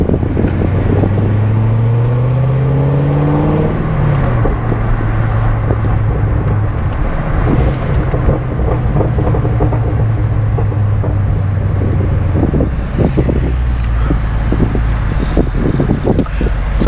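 A Corvette fitted with American Racing long tube headers and a Borla exhaust revs and downshifts loudly, its engine tone sweeping up and down before settling into a continuous rumble with scattered sharp pops and crackles.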